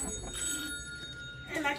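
A telephone bell rings faintly in a noisy indoor setting where people are cooking pupusas, with a brief ring near the end partly masked by chatter and room noise.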